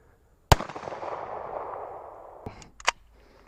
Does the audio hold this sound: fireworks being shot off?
yes